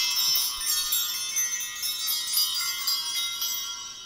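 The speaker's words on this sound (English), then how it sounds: "I want to ring the bells and call in some good energy for this reading" Small bells ring continuously in a bright, shimmering jingle before a tarot reading, close and steady without speech over them.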